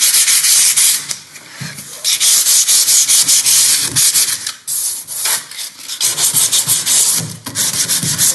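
A door is sanded down by hand to prepare it for paint, giving loud, close rasping strokes in a repeated back-and-forth rhythm with short pauses between passes, and no talking.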